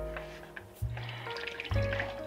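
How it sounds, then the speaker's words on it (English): Marinade for London broil is poured into a plastic bag, with soft gurgling glugs and wet slosh in two bursts and quiet crinkling between them, up close and fairly faint. "I'm going to just pour this marinade"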